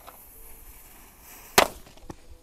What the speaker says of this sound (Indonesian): Selanjutnya yang kita nyalakan di sini ada UFO bosku